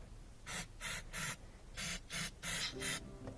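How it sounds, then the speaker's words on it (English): Mass airflow sensor cleaner sprayed onto the sensor of a GMC Vortec engine, six short hissing bursts in an uneven rhythm, close and fairly quiet with pauses between. "Just going to spray in here a little bit."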